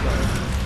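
Destiny 2 weapon reloading, a short, loud mechanical clatter of clicking and ratcheting parts lasting under a second, with no voices.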